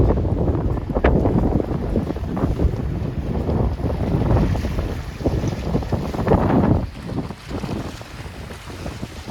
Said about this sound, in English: A little bit windy here today.